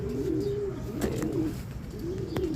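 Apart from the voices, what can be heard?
racing pigeons circling and cooing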